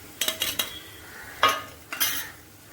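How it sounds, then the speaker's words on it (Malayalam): A spoon stirring onions in a frying pan for prawn biryani, several quick metallic scrapes and clinks in a burst, then two longer scraping strokes over a faint background sizzle. "നന്നായി ഇളക്കി കൊടുക്കാം. നല്ലവണ്ണം വാടി വരണം കേട്ടോ."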